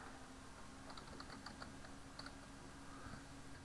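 Light, quick keyboard taps typing into the Windows start menu search box come in two short bursts, faint and close, over a steady background hiss, with no voices.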